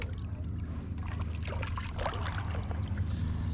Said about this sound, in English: we're kayaking here on the lake now